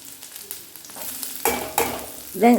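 Shallots sautéing in a pan while being stirred, giving a quiet sizzle punctuated by a few sharper scraping strokes and a louder clatter at the end.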